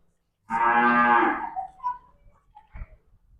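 A cow on a household dairy farm gives one long, loud, close moo that trails off into quiet, with faint shuffling and a brief low thump afterward.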